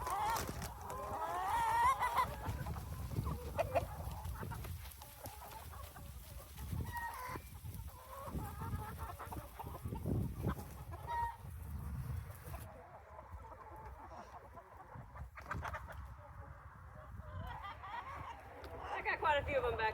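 Free-range backyard chickens on a ten-acre Indiana homestead clucking and chattering near and far while being lured back with treats, mixed with outdoor rustle and occasional talk.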